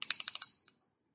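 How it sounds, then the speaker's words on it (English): A small handbell rings as its clapper strikes the inside, a quick run of bright metallic strikes that fade into a short ringing tail. "the clapper bangs into the side of the bell, making noise"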